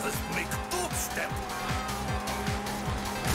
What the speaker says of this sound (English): Okay, that was a good drift.